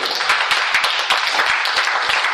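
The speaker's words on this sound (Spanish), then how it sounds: "Den un aplauso por la unidad que tenemos." Church congregation applauding together during a service, a dense burst of many hands clapping that stays loud and steady for a couple of seconds with no talk over it.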